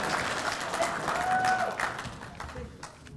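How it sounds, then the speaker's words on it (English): A conference audience breaks into applause and cheers, a short burst of clapping that swells and then fades, with a little voice over it. "Special cheer for Ron."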